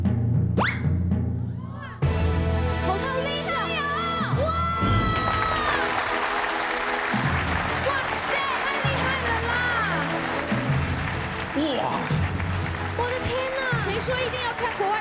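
A studio audience at a Taiwanese TV variety show cheers, whoops and applauds in loud bursts, with excited voices shouting over the clapping.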